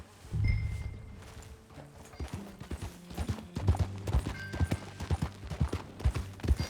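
Horse hooves clip-clopping as a rider urges a mount along in the Red Dead Redemption 2 video game, a steady run of distinct, fairly close hoof thuds that quicken and grow louder toward the end.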